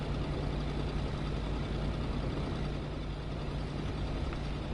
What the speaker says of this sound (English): Jesus, that car is so loud